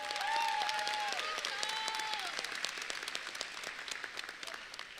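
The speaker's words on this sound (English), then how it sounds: "please give a round of applause on this journey that your child took with us" Applause from families at a 2022 Memorial Pathway Academy graduation ceremony, a steady wash of many hands clapping that stays full throughout with faint voices mixed in.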